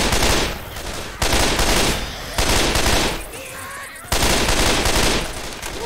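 Gunfire in Left 4 Dead 2: several long, loud bursts of rapid automatic shots, each lasting about a second, separated by brief lulls, up close and dominating the sound.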